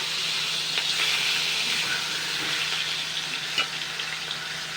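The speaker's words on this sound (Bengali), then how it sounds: "তেলটা কিন্তু ভালোই গরম হয়ে গেছে। এবার আমি নুন মাখানো মাছগুলো আমি দিয়ে দেবো।" Salted katla fish pieces sizzle and spit in hot oil, a dense continuous frying hiss with occasional crackles and pops throughout, close and steady with no talking.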